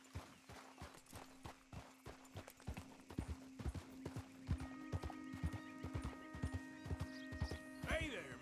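Hooves clip-clop at a walking pace in Red Dead Redemption II, a steady run of distinct hoofbeats with voices talking over them and a brief horse whinny near the end.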